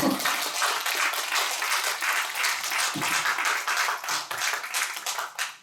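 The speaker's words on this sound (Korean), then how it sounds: "박수 부탁드립니다" An audience at a Busan community project results briefing applauds, a close, steady burst of many hands clapping that holds throughout and thins slightly near the end.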